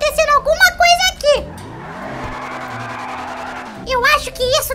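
A car engine revs and accelerates in the video game GTA 5, a steady rising motor drone filling the middle of the clip, with animated voices talking before and after it.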